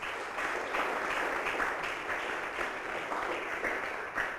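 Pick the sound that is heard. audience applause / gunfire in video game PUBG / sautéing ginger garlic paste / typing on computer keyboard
audience applause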